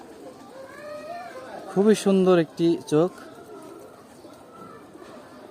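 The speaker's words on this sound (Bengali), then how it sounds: "আজকে দেখাবো রব্বানি লাইনের নর আর একটা মাদি। এটা হচ্ছে নর কবুতরটা" Male pigeon of the Rabbani bloodline cooing close by in a few loud, throaty bursts, while someone speaks briefly over the calls.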